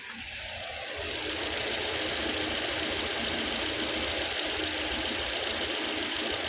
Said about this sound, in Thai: ผมสตาร์ทเครื่องเปิดแอร์เรียบร้อยนะเดี๋ยวลองฟังเสียงกันดูนะครับ